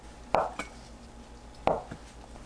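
Two separate knife strokes through an imitation crab stick, each ending in a sharp tap on the cutting board, clean and close with quiet between.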